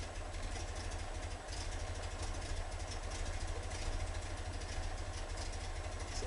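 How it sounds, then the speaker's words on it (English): A 1973 VW Super Beetle's 1745cc air-cooled engine with Dellorto FRD 34 carburetor idling at about 800 rpm, a steady, even low rumble throughout, close and constant, with no talking. "And here's our idle."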